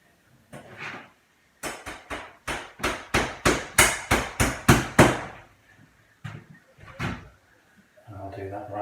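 Clout nails hammered to hold lath for plastering a bedroom: a rapid run of about a dozen sharp, close hammer strikes, with a few scattered blows before and after and brief talk at the end.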